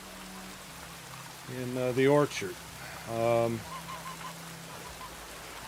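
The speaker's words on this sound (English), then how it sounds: "Let's go inside out of the rain so it's not so loud." Constant rainfall hiss in The Witcher 3, pouring steadily around White Orchard under in-game character dialogue, with voices rising over the wash of rain.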